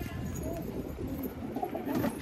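Pigeons, including a crested Lalban Khairi, cooing softly in a loft in Rohtak, faint low murmuring coos repeating under quiet background voices.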